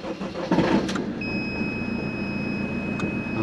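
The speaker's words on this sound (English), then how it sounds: "And he's going to start the engine up" A motorhome engine cranks briefly and catches, then settles into a steady mid-pitched idle up close, with a thin electronic whine running alongside.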